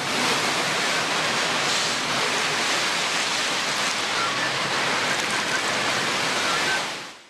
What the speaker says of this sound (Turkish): Yağmur suyu yollarda dere gibi aktı, afet gibi yağmurla alt geçitler suya gömüldü.